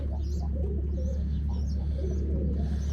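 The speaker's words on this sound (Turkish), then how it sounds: "Kuşlarımızı kovalayacağız." Birds coo softly in a chicken coop, with a few faint chirps over a steady low hum that runs through the whole stretch.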